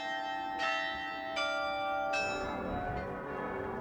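Tuned bells in Passau, Germany, ring a slow melody, with three distinct strikes spaced about a second apart and long resonant tails that overlap in a continuous ringing wash, heard from some distance without voices.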